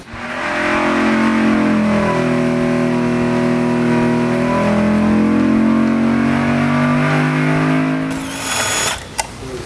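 An LSX V8 race engine with interchangeable intake runners screams at high RPM on a dyno, a loud, steady sustained wail with rising and falling harmonics for about eight seconds before the revs drop off and a sharp clatter follows.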